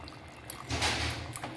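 Ground coconut paste is strained and poured into a simmering black karamani kara kuzhambu, giving a brief, soft liquid pour of under a second against quiet kitchen background.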